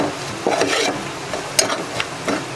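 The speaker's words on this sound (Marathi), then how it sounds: "आता व्यवस्थित भाजून घेऊया मसाले." Malvani masala and homemade garam masala dry-roasting in a pan over low heat for a crab curry, with a soft, steady sizzle broken by a few scraping stirs and light clinks.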